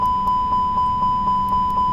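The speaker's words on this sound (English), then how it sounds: "About to have a headache from that beeping though." Cockpit warning in Microsoft Flight Simulator 2020 after the engines are shut down: a loud, steady electronic beep repeating about four times per second, alone with no talk.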